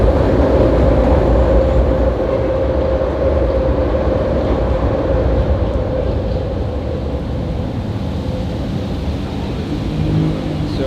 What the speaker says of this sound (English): Give me 1 second for the train